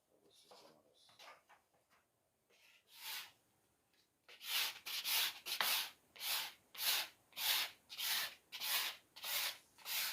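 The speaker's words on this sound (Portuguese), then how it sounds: "Deixa eu dar uma raspadinha nele rapidinho, só para você ter uma noção." Quick scraping strokes go over an unsanded wooden luthier's part, rubbing back and forth in an even rhythm of about a dozen close, fairly loud passes. Softer handling noises and a voice come before the strokes.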